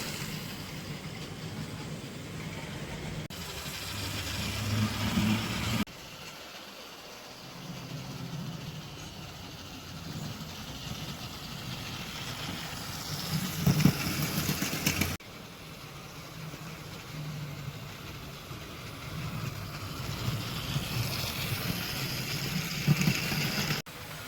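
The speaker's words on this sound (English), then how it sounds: "Just as a reminder of the trip on the Spa Valley, just shunting a brake van." A Lima model shunter locomotive on a model railway, shunting a brake van, gives a low, steady motor hum and whirr that fades and returns in sections, with no voices.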